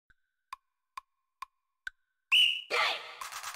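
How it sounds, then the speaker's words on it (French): Short sharp whistle blasts in a duck video game, five evenly spaced brief pips followed by a long, louder whistle tone and bursts of noisy game sounds. "dès que t'entends le sifflet"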